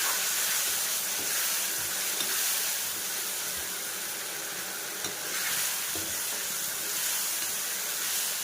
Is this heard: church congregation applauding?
no